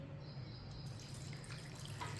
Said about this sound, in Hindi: 2 कप पानी डाल लेंगे।